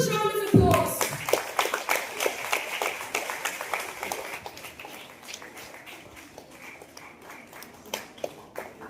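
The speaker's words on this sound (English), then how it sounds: "Can we have a huge round of applause?" A large audience at a school workshop breaks into a loud, sustained round of clapping that carries on steadily and eases slightly toward the end, with no talk over it.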